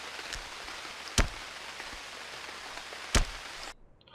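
Steady rain hisses in the Unreal World video game, a constant wash with a couple of sharp knocks standing out, before cutting off abruptly near the end.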